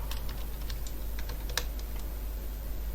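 Typing code for an Android app on a computer keyboard: a quick, uneven burst of close keystrokes with one sharper key hit, then quieter tapping over a steady low hum, with no speech.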